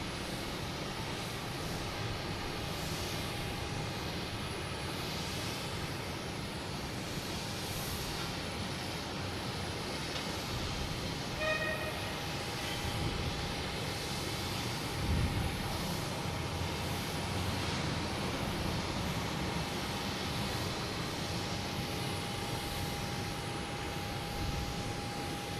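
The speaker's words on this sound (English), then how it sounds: "I know I've heard something about a JetBlue taking off. The E190, flight" A JetBlue Embraer E190 jet takes off from Boston Logan Airport as a steady, broadband engine roar that holds level throughout, heard from a distance, with no talking.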